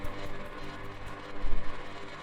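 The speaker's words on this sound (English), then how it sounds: "Now I did make it kind of synthy with some reverse delay" Omnisphere dulcimer patch made synthy with reverse delay, a dense washing texture with swelling, sucking pulses, loudest around the middle and fairly steady in level, with no voice over it.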